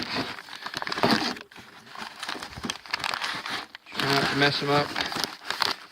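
Animal furs are folded and pushed into a padded envelope, giving loud close crinkling and rustling of paper and padding in bursts, with a person talking over part of it.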